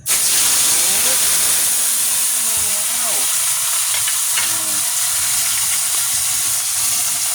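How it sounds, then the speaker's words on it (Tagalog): Continuous loud hissing and sizzling of fish frying in hot oil, close by, with faint clinks of a utensil now and then. "Magluluto tayo ngayon. Prito tayo ng isda."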